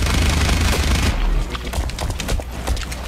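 Gunfire in the PC shooter Blacklight Retribution, a dense burst of rapid shots at first giving way to scattered sharper cracks, loud and close throughout.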